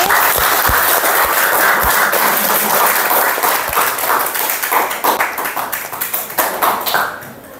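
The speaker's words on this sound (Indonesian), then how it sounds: "Berikan aplaus sekali lagi." An audience applauds steadily for several seconds at a teachers' academic supervision coaching session, the dense clapping thinning slightly and fading toward the end, with no talk over it.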